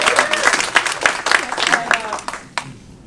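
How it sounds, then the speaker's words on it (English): A brief round of applause from a comedy night audience, lively clapping with distinct sharp claps that fades out within a few seconds, with some crowd voices mixed in. "That deserves a round of applause"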